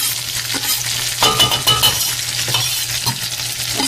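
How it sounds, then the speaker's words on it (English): Half a sweet onion and four garlic cloves sauté in a pan with crab pot pie filling under way, a close sizzle with scraping strokes and light clinks of a utensil stirring, no voices. "I'm going to go ahead and add the 1/2 of a sweet onion and the 4 cloves of garlic."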